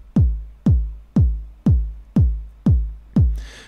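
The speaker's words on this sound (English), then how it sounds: "I've just sequenced in a simple four on the floor drum pattern." A Roland AIRA Compact T8 plays a four-on-the-floor kick pattern of seven deep, booming kicks at an even pace, each with a falling pitch and short decay, with a faint hissy hit layered on the last beat.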